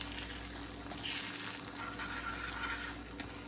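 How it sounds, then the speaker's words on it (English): Scrambled eggs sizzling in a hot frying pan, a steady crackling hiss with soft scraping and stirring sounds on top. "You hear the sizzle."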